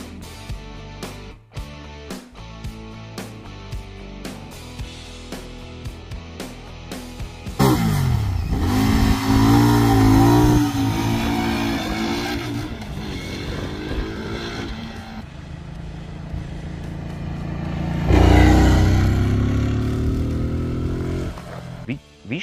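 A Keeway MBP C1002V motorcycle rides at full throttle, its engine rising loud and steady after a quieter opening, with a second surge of revving near the end.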